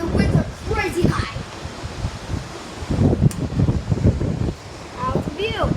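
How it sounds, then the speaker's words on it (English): Strong wind gusts at Myrtle Beach in the aftermath of Hurricane Nicole, a steady broadband roar buffeting the microphone with possible surf beneath, running under a person talking throughout. "It is so windy in Myrtle Beach."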